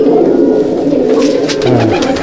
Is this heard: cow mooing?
no